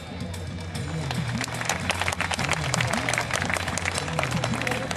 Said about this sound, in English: I also request the eminent gathering to applaud them